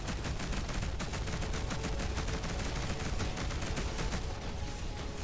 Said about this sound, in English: Fast weapon firing.